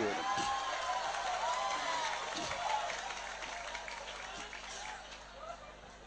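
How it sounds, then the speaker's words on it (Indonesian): Audience applause at an Islamic preaching event in Madura, broad crowd clapping with cheers and whoops over a room hum, a voice briefly rising early on, fading slightly toward the end. "Ngono ya tepuk tangan"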